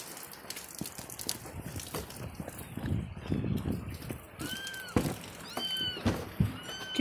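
A few short, high kitten meows come through amid rustling and handling noises, with scattered thumps and no talking.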